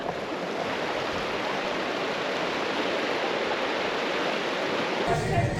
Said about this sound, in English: a lot of fast flowing water